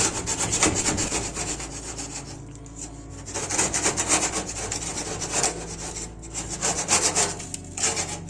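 A metal scraper rasps over baked-on grease inside a dirty, heavily soiled oven, loud repeated back-and-forth strokes in close bursts with brief pauses between them.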